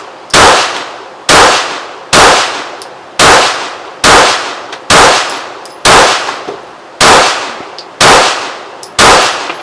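Ten evenly spaced gunshots strike a metal target, each a loud, sharp clang ringing out briefly before the next, steady rhythm roughly one per second, no talking.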